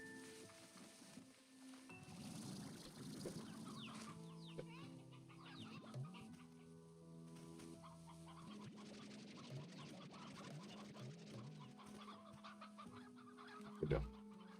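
Chickens cluck softly and steadily in the video game Slime Rancher 2, with game music and ambient tones underneath and a brief louder pop near the end.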